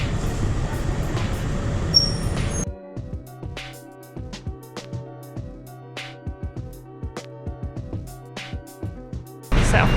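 A local train on the Taipei–Ruifang line toward Jiufen, Taiwan: loud rumbling carriage noise at the start and again at the end, with quieter interior clicks, thumps and voices in between.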